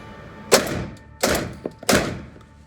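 A Mossberg 940 JM Pro semi-automatic shotgun fires three evenly spaced booming shots about 0.7 seconds apart, each with a sharp crack and a trailing rumble, captured close with no talking.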